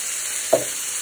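Broccoli and garlic dropped into an olive-oil stir-fry pan: a steady sizzle throughout, with one brief louder hiss midway as the food lands.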